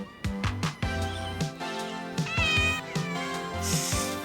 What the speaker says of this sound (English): Meow this, meow that.